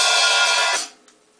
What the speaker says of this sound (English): This time we have an open hi-hat on the end, which is going to sound like this.